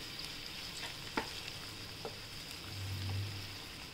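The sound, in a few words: stirring and sautéing besan (gram flour) in a pan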